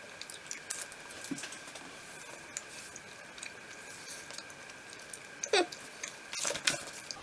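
Tiny green melon-and-milk flavoured chew candy from Indonesia being chewed close to the mic, with soft wet squishes, small clicks and a few sharper bites over a quiet background.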